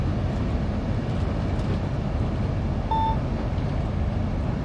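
A train in Train Sim World 2 runs with a continuous low rumble and rolling noise, and a short electronic beep sounds briefly partway through.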